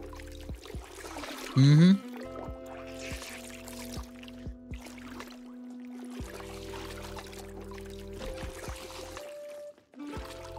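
Water pouring and trickling during washing in the video game Project Zomboid, a steady stream heard close up while people chat over it.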